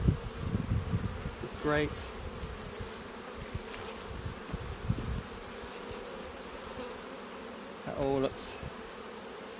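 Honey bees swarm and drone steadily around an opened beehive, a close, continuous buzz with a few brief louder passes as single bees fly near, while a person speaks briefly.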